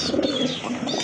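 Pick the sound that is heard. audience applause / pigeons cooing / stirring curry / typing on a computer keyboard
pigeons cooing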